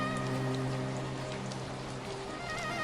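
Heavy rain falls steadily in a dense, continuous hiss with scattered drop patter, even and unbroken throughout, with a faint tonal hum underneath.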